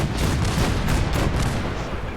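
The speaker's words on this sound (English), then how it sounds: "Soldier, man the cannons." Cannon fire in a post-apocalyptic wasteland video game, a dense, loud barrage of booming blasts rolling together continuously with no pauses between shots.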